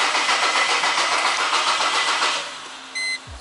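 A Mercedes ML W163 diesel, low on fuel and with its glow plugs staying lit, cranks steadily for about two and a half seconds without firing, then stops and a few faint electronic beeps follow.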